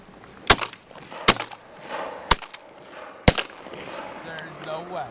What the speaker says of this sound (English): he shot so far behind them suckers